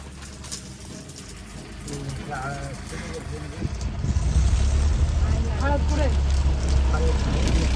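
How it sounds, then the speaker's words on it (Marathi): A tractor engine starts up partway through and settles into a loud, steady low rumble, with people talking over it. "ट्रॅक्टर आहे ट्रॅक्टर"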